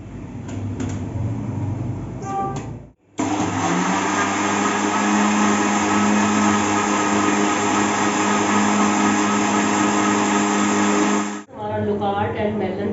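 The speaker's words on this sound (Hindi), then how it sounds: "बस इन सब चीज़ों को हम करेंगे ब्लेंड" A blender whirs loquat, melon and water into juice, a loud steady motor roar holding unbroken for about eight seconds, with talk just before and after it.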